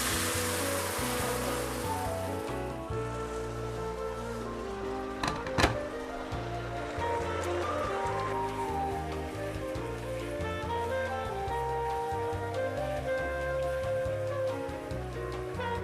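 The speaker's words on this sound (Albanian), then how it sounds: "tani, do të shtojmë vetëm pak ujë" Water splashed into a hot pan of black Venere rice with chicken and red pepper bursts into a loud, broad hiss that fades over a couple of seconds, then a steady bubbling simmer continues under background music.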